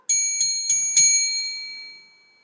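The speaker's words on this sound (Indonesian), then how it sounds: "bagaimana prakteknya pukul lonceng?" A small bell is struck four times in quick, even succession, each bright metallic ring stacking on the last before the tone fades out alone.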